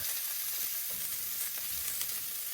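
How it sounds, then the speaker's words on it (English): Mustard greens cooking in bacon grease in a hot pan, a continuous dense sizzle with soft crackles and stirring, close and steady throughout. "I just left a little bit in the bottom, and I am gonna throw in my mustard greens and just let them start to, I'm just gonna kind of sweat down and cook"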